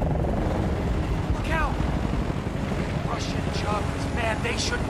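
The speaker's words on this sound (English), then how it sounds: "Look out! Russian chopper's mad." A Russian attack helicopter in the Battlefield: Bad Company 2 video game thunders nearby, a steady heavy rotor drone mixed with wind and battlefield noise, while soldiers shout over it.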